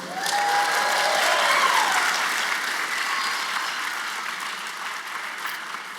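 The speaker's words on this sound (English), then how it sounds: "Please give yourselves a round of applause for being here." Audience applause fills the hall at a first-generation student graduation ceremony, a steady wash of clapping with some cheering that swells early then gently fades.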